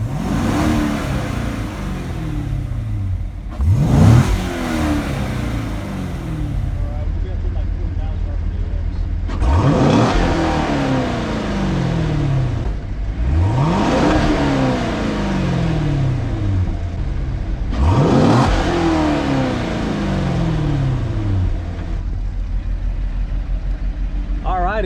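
A Corvette engine revs hard to about 4,500 RPM five times, each surge climbing then falling away, loud and close over a steady idle.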